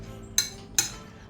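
A spoon mixing beaten eggs with carrot and cabbage in a bowl for a bread sandwich gives two sharp, close clinks against the bowl, about 0.4 seconds apart, with quiet in between.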